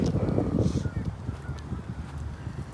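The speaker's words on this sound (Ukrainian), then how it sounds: "Чайки літають." Seagulls call repeatedly over the Dnipro river shore, where the water level has dropped, with loud, overlapping honking cries close by against outdoor background noise.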